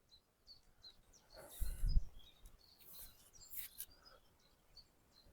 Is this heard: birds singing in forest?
yes